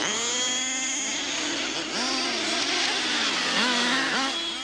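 Several fuel-powered model race cars scream past in a continuous, loud, high-pitched engine whine, their pitch repeatedly dropping and rising as they brake into a bend and accelerate out.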